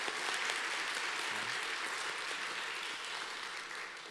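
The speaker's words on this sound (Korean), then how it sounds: "우리 하나님께 영광의 박수 올려드리도록 하겠습니다" A church congregation at a Sunday afternoon service claps together in sustained, fairly even applause heard from a distance, tapering slightly toward the end.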